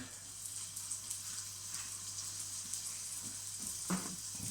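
A meat patty sizzles in a hot pan, a steady frying hiss with low crackles and a small pop near the end, heard close up with an electrical hum underneath.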